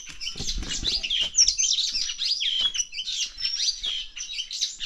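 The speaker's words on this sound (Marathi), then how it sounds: "पक्षी आले झाडावरती बरेच" Many birds chirp and tweet continuously in trees at a village home on a morning around ten, bright overlapping calls close by, with a few low rustling thumps underneath.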